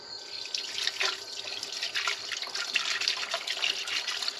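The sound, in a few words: electric pump washing engine bottom end out with diesel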